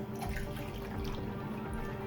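Water pours steadily into a gallon of mead to top it up, a close, continuous gurgling splash.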